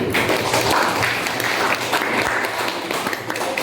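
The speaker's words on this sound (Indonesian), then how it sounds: "Tepuk tangan untuk Ganti" Classroom applause for a student after a physics answer: a dense, steady burst of many hands clapping together at close range, loud throughout and ending abruptly.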